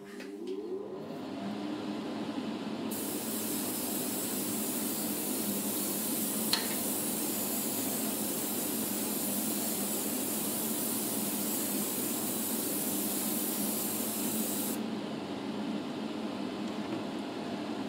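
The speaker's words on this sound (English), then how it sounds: "I'm going to turn on the spraying booth again." A spraying booth extractor running steadily while matte varnish is sprayed over scale model metal plates, a loud even broadband hiss that starts a few seconds in and holds for about twelve seconds before cutting back, with no talk.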